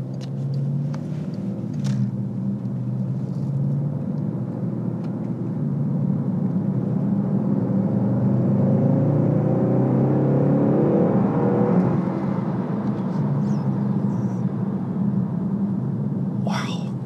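A 2015 Bentley Continental GT3-R pulls out onto a street, its engine a steady low rumble that swells slightly as it accelerates, heard from inside the car with faint road noise and a few brief clicks.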